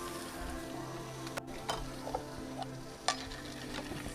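Shrimp sizzle and fry in ghee butter in a Forno de Pizza oven pan, a steady soft crackle broken by a few light clinks and stirring scrapes, no talking.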